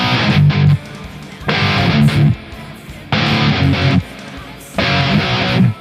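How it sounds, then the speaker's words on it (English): Electric guitar plays a power-chord verse riff in four loud, distorted bursts separated by rests, a tight repeating rhythm, close and alone. "So this is, again, is going to use all power chords, and it's going to all follow the same rhythm."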